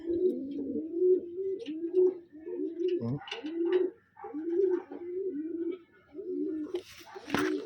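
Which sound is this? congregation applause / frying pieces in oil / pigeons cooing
pigeons cooing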